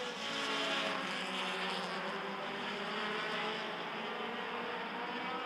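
Midwest Dash Series race cars circling a short track, their engines a continuous loud roar that holds steady throughout without a break, with no talking.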